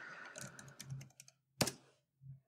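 Computer keyboard keys tapped at a desk while entering FTP account details, a quiet run of irregular clicks with a brief pause, one sharper keystroke, then a final soft tap.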